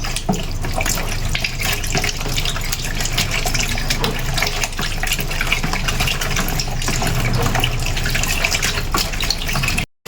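Tap water running at weak pressure into a sink while catfish are rinsed, a steady, close splashing gush that holds evenly for about ten seconds before cutting off.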